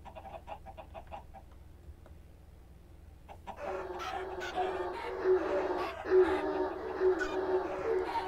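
Chickens in a Minecraft Hypixel mini-game, with a few quiet clucks at the start, then after a short lull a busier run of clucking and squawks at moderate loudness over a low hum.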